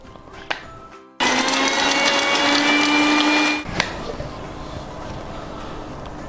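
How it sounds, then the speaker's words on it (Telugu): A mixer grinder grinds chicken for keema. It whirs loudly at close range for about two and a half seconds, then cuts off abruptly, and a faint hum lingers after it stops. "చికెన్ కూడా కాస్త మిక్సీ కాడించుకుందాము"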